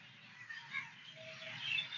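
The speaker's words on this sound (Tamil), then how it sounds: "எவ்வளவு பறவினங்கள் அதாவது மைனாட சத்தம் கேட்குன்னு பாருங்க" Scattered bird chirps and calls, mynas among them, over a steady outdoor hum, fairly faint and somewhat distant, in Gandhi Park, Batticaloa, Sri Lanka.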